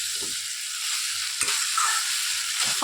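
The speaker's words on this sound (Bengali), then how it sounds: "এখানে দিয়ে দিলাম সর্ষে বাটা কালো আর সাদা বেশি নাড়বো না অল্প করে নাড়বো" Black and white mustard paste stirred gently in a pan, soft scraping strokes over a steady hiss, with a few brief low knocks of the spoon; close and fairly quiet, no talking.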